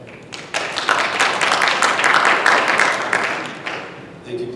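An audience at a Highland, California candidates' forum claps in a burst of applause that lasts a few seconds and then tapers off, with a brief voice at the very end.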